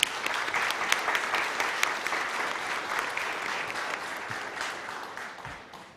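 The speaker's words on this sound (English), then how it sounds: "needs a great round of applause" An audience at the FIBAC 2022 banking conference in a Mumbai hotel hall breaks into a warm round of applause, many hands clapping steadily before gradually thinning out.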